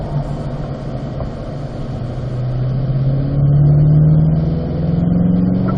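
A race car on a racing circuit accelerates hard, its engine drone rising steadily in pitch and loudness up to a peak before easing slightly. The engine is loud and close, heard alone without talk.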